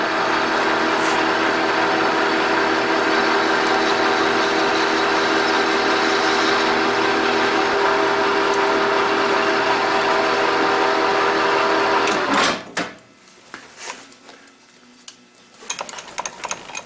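A lathe parts off a metal workpiece with a steady, loud machining whine and grinding hum, continuous for about twelve seconds before the cut ends and the motor sound drops away into quieter clunks.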